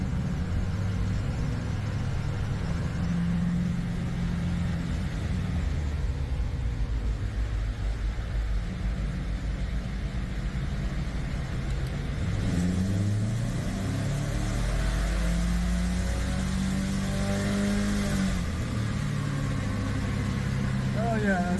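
A Subaru Crosstrek with a swapped-in FB25 engine runs on a dyno, a steady low drone throughout that swells into a rising rev partway through, with voices heard faintly over it.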